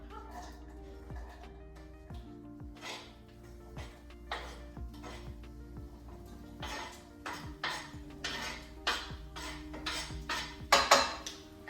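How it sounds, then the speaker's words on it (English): Vegetables tipped into a cooking pot for a vegan chilli, with repeated clatters and knocks of utensils and pot close by, growing busier and louder toward the end over a steady kitchen hum. "So we're going to take our vegetables and we're going to put it in the pot."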